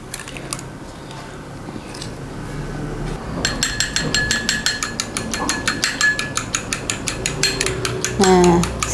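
An egg is beaten in a bowl, a faint rustle first, then a fast, steady run of close clicking strokes that ends in a brief clatter.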